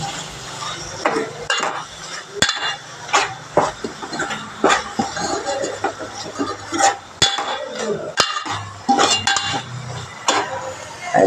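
Fenugreek powder stirred in a pan for a curd curry, with a spoon clinking and scraping against the metal in irregular close knocks over faint sizzling.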